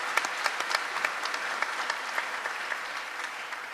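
Audience applause fills a large hall at a public event held at the Sydney Opera House, steady and dense with sharp individual claps standing out throughout, no talk over it.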